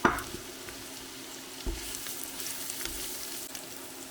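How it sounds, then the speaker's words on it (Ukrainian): Carrots and onion frying in a pan give a soft, steady sizzle with a few light stirring scrapes, close but fairly quiet. "Цибуля злегка позолотилась, підсмажуємо моркву."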